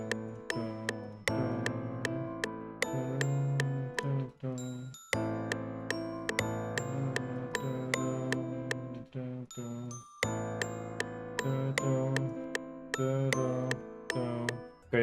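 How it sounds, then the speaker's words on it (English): A soft bell melody in a dark beat with a children's choir feel, built from bright, ringing tuned notes in a repeating pattern with short pauses between phrases, close and clear with no talking. "I think I'm just gonna add like a soft bell"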